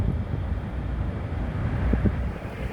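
A Bosch Turbine-Cut AXT 25 TC garden shredder runs with a steady, loud, rough low rumble and whooshing drone, with a brief knock near the end.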